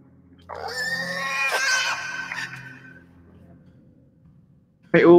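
A pig in the video game Inside lets out a long, shrill squeal that fades, followed by a brief sharp squeal at the end, with a low background hum.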